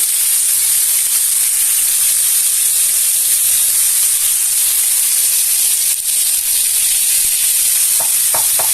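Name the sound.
beef cheeks searing in a hot pan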